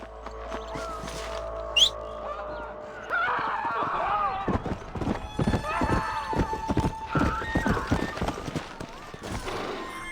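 Horse hooves clip-clop in the video game Red Dead Redemption, in a rapid, uneven series of close thuds joined by a horse's whinny, with a voice speaking at times over the hoofbeats.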